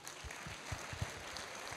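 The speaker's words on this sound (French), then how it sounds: "So please encourage me, applaudir." A comedy-show audience at Rire à Gogo claps for a performer, soft, scattered applause heard from a distance with a few heavier, lower thumps standing out.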